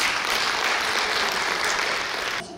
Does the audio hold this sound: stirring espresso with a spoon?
no